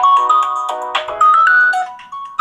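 A loud, bright ringtone from a Blackview BV8900 rugged phone plays close by, a quick melodic run of tones repeating with brief pauses.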